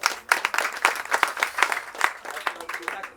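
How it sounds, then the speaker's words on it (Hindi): An audience claps at an event supporting Hindu refugees displaced from Pakistan, a dense, steady round of applause from many hands with a voice faintly underneath. "दोनों के लिए भी ताली बजा दीजिए।"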